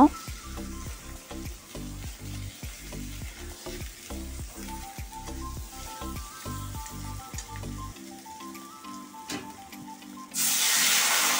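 Half-boiled taro frying in a pan with salt and turmeric: steady sizzling throughout, with repeated knocks of stirring in the first part, ending in a louder hiss.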